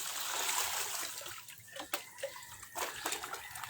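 Water from a household tap runs in a steady hissing trickle with small splashes and drips, close by and fairly quiet, with no voices.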